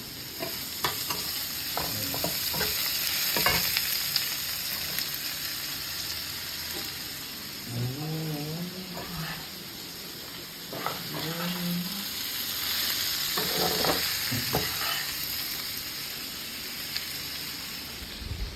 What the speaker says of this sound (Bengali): এবার চাল কুমড়োটা কিন্তু চলে যাচ্ছে সুন্দর করে ভাজা ভাজা মুগের ডালের ওপরে